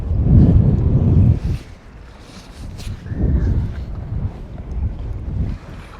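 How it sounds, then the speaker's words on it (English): Strong wind blows across the microphone on a fishing boat, loud rumbling gusts that surge and ease over a low wash of water. "it's so hard in this wind"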